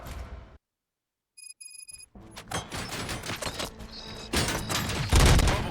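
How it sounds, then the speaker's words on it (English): Rapid bursts of gunfire in the Robocop: Rogue City video game start after a brief silence, growing louder and denser toward the end with booming impacts. "Gunshots? What's going on?"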